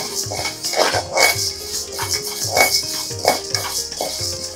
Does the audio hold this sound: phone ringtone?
no